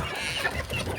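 Chickens cluck continuously in a close, busy poultry pen, with overlapping calls from several birds filling the whole moment at a steady level.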